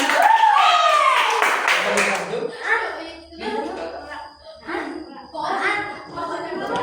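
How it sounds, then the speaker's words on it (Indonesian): Fifth-grade primary school pupils clap for their classmates in a classroom, a brief burst of close applause mixed with children's voices and chatter. "tepuk tangan buat teman-teman kalian"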